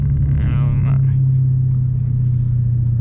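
A manual Dodge Challenger Hellcat with deleted mufflers idles with a loud, steady low exhaust rumble, a person speaking briefly over it near the start.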